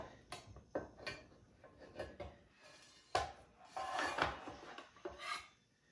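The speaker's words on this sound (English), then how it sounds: "So now I'm gonna take it out of the pan." Fresh-baked focaccia slides out of a metal baking pan with a series of soft rubbing and scraping sounds, irregular short bursts of friction against the pan, fairly quiet and close, with no talking.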